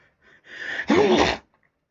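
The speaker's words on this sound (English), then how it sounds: "I'm about to sneeze." A single person sneezes once, a short sharp intake building into a loud burst that cuts off quickly.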